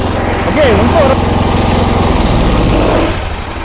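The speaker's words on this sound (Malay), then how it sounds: "Okey, kalau dah start macam ni lah keadaan dia bang Kalau dah start, ni jaga mata ni pusing." A Senci road cutter engine runs loud and close with its cutting blade spinning, a steady droning roar with a rapid buzzing pulse; someone talks over it.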